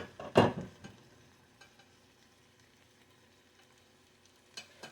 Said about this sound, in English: I just want to give this a little sear.